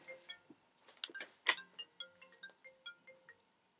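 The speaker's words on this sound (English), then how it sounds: "That's my alarm says I have to pick up my daughter from school" A phone alarm rings with a short, repeating electronic tone pattern, sounding fairly faint and close by in an otherwise quiet room.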